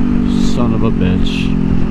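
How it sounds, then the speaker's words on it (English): Kawasaki Ninja 400 motorcycle engine rumbling steadily with a few crackling exhaust pops on deceleration, loud and close, with a voice speaking over it. "Ooh, those pops sound crispy."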